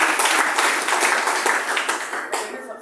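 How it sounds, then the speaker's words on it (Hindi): Dense audience applause with many hands clapping in a continuous, fairly loud wash that tapers slightly toward the end. "एक बार जोरदार ताली"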